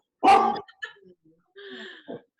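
An eleven-year-old Labrador barks once loudly and close at the mailman, then gives a few softer yips and whines with brief gaps between them.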